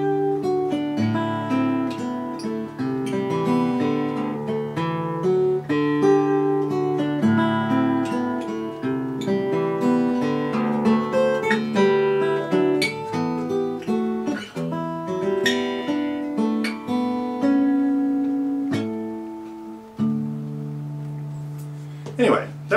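Guitar plays a song rearranged into a completely different character, a busy mix of strummed chords and picked melody lines with some sharp accents, continuing steadily and fairly loud before it eases off near the end.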